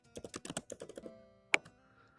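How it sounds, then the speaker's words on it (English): Rapid burst of computer keyboard typing, about a dozen close, crisp keystrokes over roughly a second, followed by a single sharper click and quiet. "Why just typing?"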